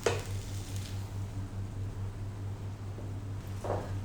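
Soft, steady sizzling of tomato puree being stirred in a pan for pav bhaji, with faint scraping of stirring, plus a low electrical hum throughout and a brief clink near the end.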